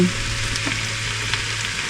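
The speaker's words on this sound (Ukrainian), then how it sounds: "вже додаю цибульку смажу" Steady crackling sizzle of onions and mushrooms frying in a pan, loud and close, with no talking.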